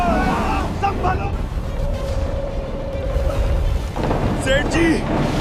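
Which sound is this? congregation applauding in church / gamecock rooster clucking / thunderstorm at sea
thunderstorm at sea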